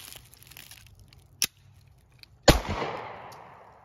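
A Taurus GX4 pistol firing, a sharp nearby shot followed by a brief ringing decay, after an earlier faint click, with no talking.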